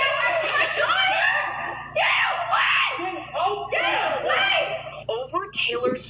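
A woman screams and wails in repeated piercing, ragged bursts that break into sobbing cries, loud and close over a low constant hum.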